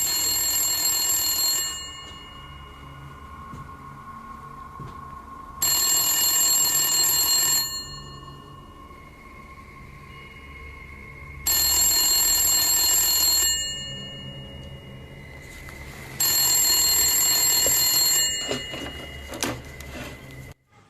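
Telephone on a table in a room ringing in four long bursts of about two seconds each, separated by pauses, loud and close against a humming background.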